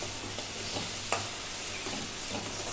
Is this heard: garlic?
yes